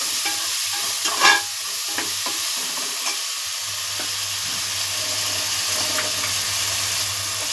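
Crushed ginger and garlic frying in oil for daal gosht masala, stirred with a utensil: a steady close sizzle with scraping stir strokes and a sharp clink near the start, no talking.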